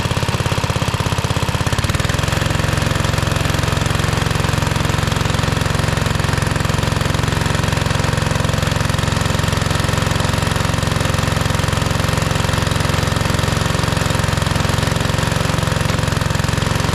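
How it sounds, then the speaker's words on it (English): A Cub Cadet RZT zero-turn mower engine running on only one cylinder, with one cylinder not firing, giving a loud, steady, uneven mechanical drone close by that goes on without a break, no voices. "Yeah, it's running off of one cylinder. This one isn't firing."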